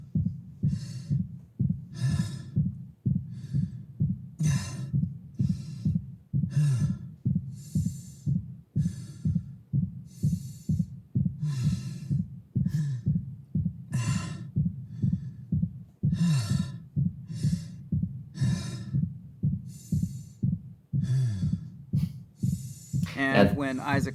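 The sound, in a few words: Isaac's heartbeat in Dead Space Remake video game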